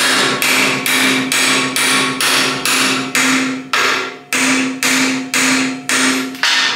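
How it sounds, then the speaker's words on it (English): Steady, evenly spaced hammer blows ring out loudly, about a dozen metallic strikes in a regular rhythm driving a steel slug into a pipe, close by with no talking. "I can just hammer it in there, like this"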